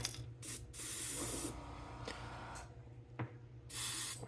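An airbrush mists translucent lemon yellow paint from a distance onto a square bill crankbait, giving several close bursts of soft airy hiss separated by short pauses.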